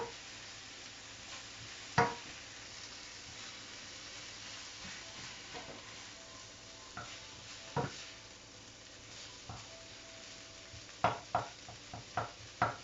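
Rice frying in a pan with peanut-sauce chicken, a soft steady sizzle broken by scattered scrapes and clinks of stirring that grow more frequent toward the end.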